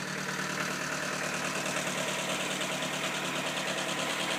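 A 2001 Volkswagen Golf TDI diesel idles after a cold start at minus 25 degrees Celsius, a steady close, loud clattering engine rumble with a fast, even knock and no pauses.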